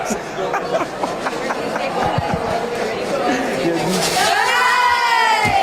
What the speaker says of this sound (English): Do you want to give us a quick cheer? Holy Cross cheer?